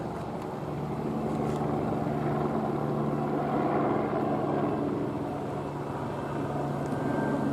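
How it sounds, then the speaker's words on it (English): Steady low rotor drone of a helicopter, probably an LAPD black-and-white police helicopter, holding at moderate distance and fairly faint, continuous with no speech. "Helicopter approaching, black and white."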